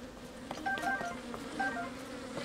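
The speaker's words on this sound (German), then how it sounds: "Hier sind Bienen jetzt drin." Bees buzzing in The Legend of Zelda: Tears of the Kingdom: a soft, steady insect drone with faint wavering tones hovers at low volume, without pause throughout.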